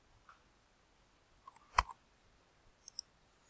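A computer mouse clicks while a language is being added in Android settings, with a single sharp click standing out against near silence and a few fainter ticks after it.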